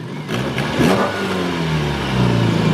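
A Mazda Miata engine revs under throttle while the car is pushed after a failed burnout, a loud, close mid-pitched roar that climbs in pitch and swells again toward the end, with no talking.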